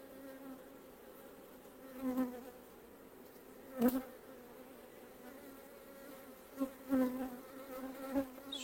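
Honey bees buzz softly and continuously at the hive, with a few individual insects swelling louder as they fly close past at irregular moments.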